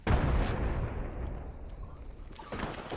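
Gunfire and explosive bursts in a match of the video game Apex Legends: a loud, dense booming blast up front that rumbles and fades, followed by another burst of shots near the end.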